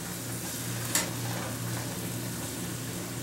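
Swiss chard stems sautéing in a pan with a splash of cider vinegar, a soft, steady sizzle with one brief clink near the start.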